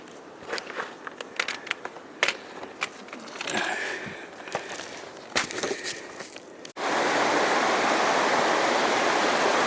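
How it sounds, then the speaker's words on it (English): Rushing creek water beneath the Bub's Creek footbridge, heard first under scattered crunching footsteps on a hiking trail, then swelling into a loud, steady roar of fast-running water at close range. "This is the Bub's Creek footbridge, and the water is really running."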